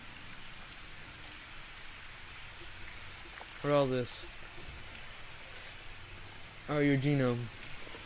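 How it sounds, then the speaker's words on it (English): Steady rain falling in the video game Jurassic World Evolution, a soft constant hiss of drops under the game audio, with a player speaking briefly twice over it. "Wait, rain."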